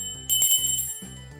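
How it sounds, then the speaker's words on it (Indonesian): A small hand bell rings brightly in short shakes, clear metallic tones sounding twice with a brief pause between, close and fairly loud. "ini adalah lonceng"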